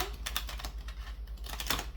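Tarot cards being shuffled give a rapid run of light, crisp riffling clicks and flutters, close and moderately loud, with a brief pause midway before the shuffling resumes.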